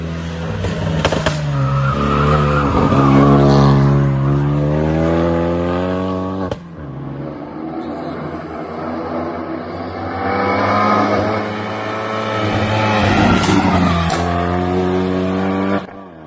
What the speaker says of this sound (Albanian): në Autosport sot vjen Belkim Fazliu me veturën e tij Renault Megane